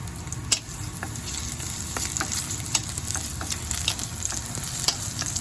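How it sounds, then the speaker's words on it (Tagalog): Garlic frying in a pan gives a dense, loud, close sizzle, with a spatula scraping and tapping the pan at irregular intervals as it is stirred and no voices. "Lagay na natin yung ating bawang. Ayan siya. Ating halu-haluin."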